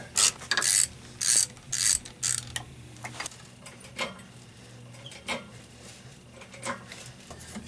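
A ratchet with a 10mm socket clicks in quick bursts while undoing subframe bolts on a Saturn S-Series car, close and crisp at first, then quieter, more scattered clicks and metal handling.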